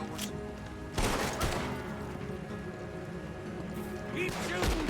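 Gunfire rings out in the video game Red Dead Redemption 2, with sharp, loud shots landing near the start and again at the end over a busy backdrop of game ambience.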